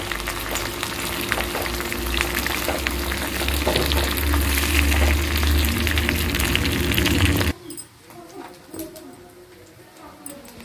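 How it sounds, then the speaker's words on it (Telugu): Dried red chillies and ginger paste tempering in hot oil for tamarind pulihora, a dense close sizzle with stirring that stops abruptly after about seven seconds, leaving faint clatter. "ఒకసారి పోపును కలుపుకుందాం."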